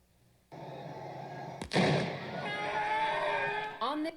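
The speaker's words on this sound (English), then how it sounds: "Do you see this explosion right here?" A demonstration explosion of the kind used in the Boston Marathon bombing, releasing a little poof of smoke: one sharp, loud blast that leaves a rumbling roar which slowly fades.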